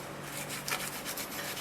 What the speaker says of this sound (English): I'm going to rub the bread on both sides, every piece of bread